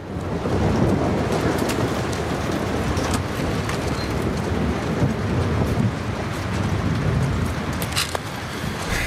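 A steady thunderstorm in The Last of Us Part II's flooded city: dense, continuous rain hiss and low rumbling thunder, with occasional sharp crackles near the end, and no voices.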